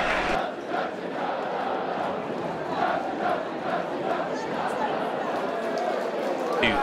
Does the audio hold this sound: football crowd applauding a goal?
yes